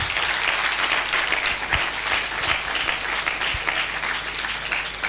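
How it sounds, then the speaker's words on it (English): A crowd at a university faculty week event applauds continuously, dense clapping filling the space at steady volume without pause. "Give her a louder round of applause"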